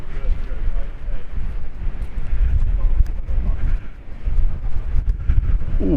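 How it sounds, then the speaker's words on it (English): Wind gusting across the microphone at Paphos Harbour seafront in Cyprus, a loud continuous low rumble with buffeting that swells and dips throughout. "Oh, it's windy."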